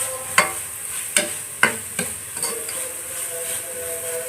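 Ginger, garlic and green chilli paste fries in a pan for paneer fried rice, with a bright hissing sizzle and about five distinct spatula knocks spaced across the moment.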